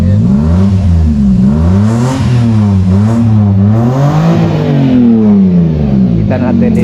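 Engine of a Suzuki Carry 4x4 mini truck with diff lock, revving steadily up and down in repeated waves, loud and close, with someone talking over it.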